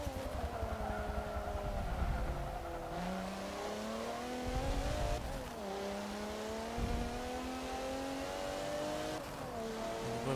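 An Alfa Romeo sport touring race car in Forza Motorsport 7 holds a steady, droning engine note that climbs through the gears, dropping briefly at each shift before rising again, loud and continuous with no talk.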